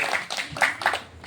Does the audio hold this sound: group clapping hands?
yes